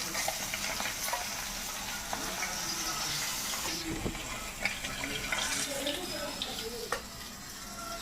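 Fish fries in a home kitchen pan, a continuous sizzle with occasional stirring scrapes and a brief splash of running water midway, a faint voice in the background.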